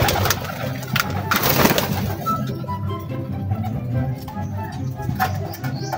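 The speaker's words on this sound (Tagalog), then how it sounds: "So ayan, dalawa lang lumilipad mga kalapatids." Racing pigeons coo in a loft while a couple take flight, soft repeated cooing and occasional wing flutters close by, with someone talking over them.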